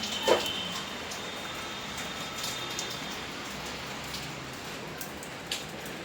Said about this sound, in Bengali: বৃষ্টি অনেক পড়ছে যাওয়া যাবে না